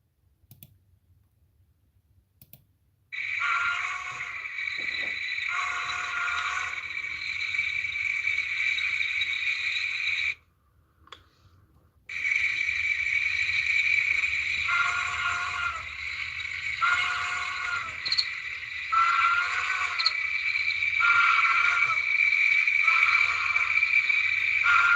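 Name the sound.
crickets chirping at a campsite at night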